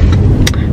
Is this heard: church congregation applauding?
no